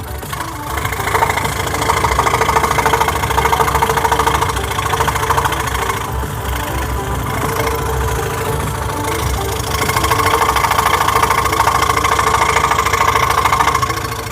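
A scroll saw cuts EVA foam, running steadily with a rapid buzzing vibration, loud and close, dipping briefly midway before resuming at full speed.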